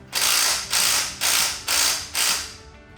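Five quick bursts of ratchet clicking, evenly spaced and close, as a bolt is tightened on the top of a Power Wheels Jeep during assembly, with no talking.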